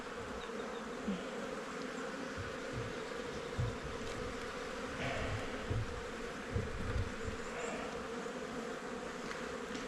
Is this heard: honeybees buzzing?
yes